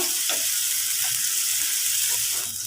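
Prawns fry in hot oil, giving a dense, close, steady sizzle with light spattering crackles throughout, no speech.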